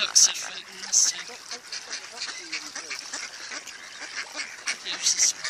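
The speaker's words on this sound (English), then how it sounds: "Ducks are fighting this time." Ducks fighting on a loch at a country park in winter, alongside swans: loud harsh quacks and squabbling calls burst repeatedly at close range, with splashing and a person talking in the background.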